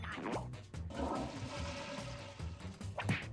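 A toilet flush sound effect plays in a Jackbox party video game, a loud watery rush with gurgling lasting about three seconds and ending in a brief swirl, with no talking over it.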